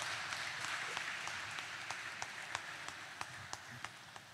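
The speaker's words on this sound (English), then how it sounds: "Clap now, clap for him now." An audience applauds at a dedication event for new appointees of a guild of organists, a quiet, distant patter of many hands that thins out into scattered separate claps toward the end.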